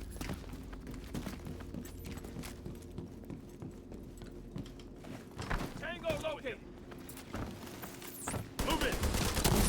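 Gunfire in the video game The Division 2 comes as bursts and scattered shots mixed with clattering game effects, moderately loud, while a player talks over the action.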